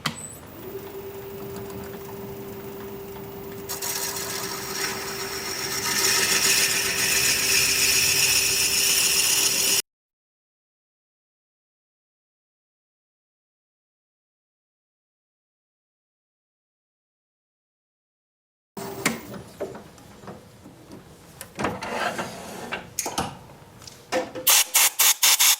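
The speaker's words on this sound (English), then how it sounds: "I'm just going to drill a hole just about the full length of the shaft of this bit." A 5/8 inch bit in a lathe chuck bores lengthwise into a bud vase blank, a steady grinding whir with a tonal hum, then a silent gap before more rough, choppy cutting noise.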